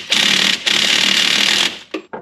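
A power tool drives the 30 millimeter control arm bolt on a 2004 Pontiac GTO, with two long loud whirring runs separated by a brief pause, then two short bursts at the end.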